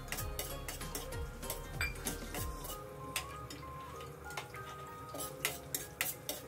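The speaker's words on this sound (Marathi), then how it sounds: "सगळ्यात प्रथम आपण हे काजू थोडेसे फ्राय करून घेऊया" Cashews frying in a pan with a little fat for upma, stirred with a spoon that clinks and taps against the metal in quick irregular strokes over a low sizzle, close up with no talk.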